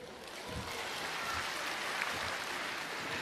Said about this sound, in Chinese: 掌声热烈起来。